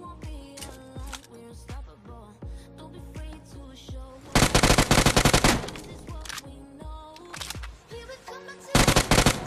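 Automatic gunfire in an online battle-royale shooter, with a dense close burst of rapid shots lasting about two seconds mid-clip and another near the end, over quieter in-game sounds and scattered single impacts.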